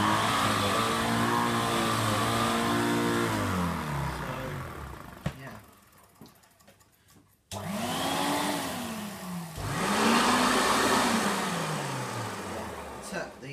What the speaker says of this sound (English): Twin turbo, is a much better vacuum cleaner than the turbo boost